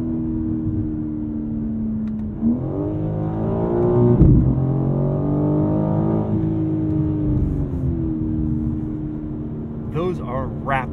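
A 2022 BMW M4 Competition xDrive engine revving through quick paddle-shifted gear changes, the tone climbing and dropping in steps with a louder surge midway, under someone talking over it.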